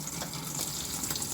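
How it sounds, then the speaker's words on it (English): A sink faucet runs in a steady, soft hiss of flowing water, heard briefly and alone at low level, as hands are about to be washed in a kitchen. "So to wash your hands, you're going to turn the water on."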